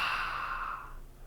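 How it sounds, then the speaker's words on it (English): A single long open-mouthed exhale during a yoga session in altar pose, a breathy rush that starts strong and slowly fades over about a second, close and clear with no talk. "Big breath in. Open mouth exhale."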